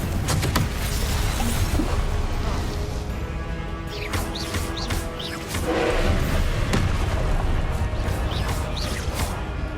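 A fiery Confringo spell blast in a Hogwarts wizarding video game, heard as a dense, loud burst of crashing and whooshing game effects that surges again midway, with busy layered action sounds throughout.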